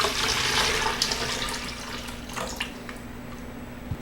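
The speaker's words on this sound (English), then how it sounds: "Simply add in more water once again." Water poured into the tank of a Coolfiqu cool-mist bedroom humidifier, a steady splashing pour that is loud at first and gradually eases off, with no voices present.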